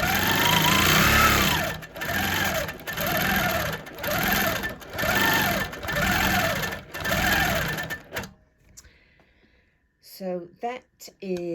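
Sewing machine stitching in rapid bursts for free-motion quilting of a holly design, running in about six steady pulses, then stopping before a voice speaks.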